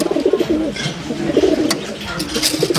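Pigeons coo close by in soft, throaty bursts, repeating in a low rolling rhythm over light background noise.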